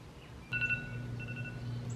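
A phone timer alarm chimes up close with a few bright repeating electronic beeps, set during a table tiling project, over a steady low hum.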